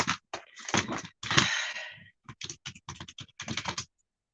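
Computer keyboard typing up close, a burst of rapid clicking keystrokes followed by a longer smeared clatter, then a brief pause and another run of quick, evenly spaced taps, loud and alone with no talk.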